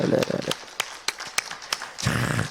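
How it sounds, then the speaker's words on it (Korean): A church congregation claps together during a Korean revival service, sharp rhythmic hand claps at first and then a denser burst of applause, with a voice heard between the claps. "우리 다시 한번 하나님께 영광의 박수를 드리겠습니다"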